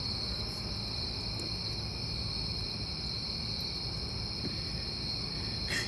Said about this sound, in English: The cricket's drowning me out, or can you hear me okay?